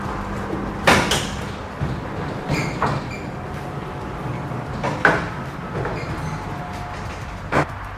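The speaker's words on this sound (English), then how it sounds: "now the tarp is free to move down the trailer" A Conestoga trailer's tarp slides open along its rails. Rattling scrapes are broken by several sharp clunks and knocks spread through the stretch, over a low background hum, with no talking.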